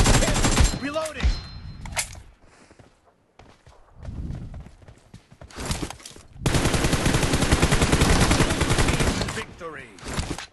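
Rapid bursts of automatic gunfire and single shots from a PUBG Mobile match, loud and close, with a sustained volley in the second half and brief footstep-like thuds in quieter gaps.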